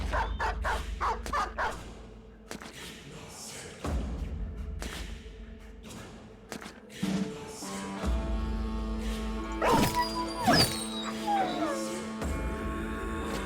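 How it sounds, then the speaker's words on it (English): Several war dogs in a party in the Battle Brothers video game bark, yip and whimper in scattered bursts over game music and combat effects, with talk running underneath. "That is a lot of war dogs in that party."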